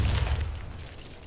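A grenade blast in a video game: a deep, booming rumble that starts loud and close, then slowly rolls off and fades over about a second, with no voices over it.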